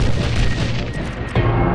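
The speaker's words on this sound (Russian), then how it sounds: "Хорошо, теперь используйте подрывной заряд, чтобы расчистить проход." A demolition charge explodes in the Star Wars Republic Commando video game, a loud, close boom with a rumbling, crackling tail and a second burst near the end.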